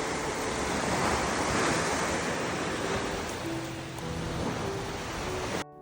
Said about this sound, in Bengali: কি আওয়াজ ঢেউয়ের, ভীষণ সুন্দর।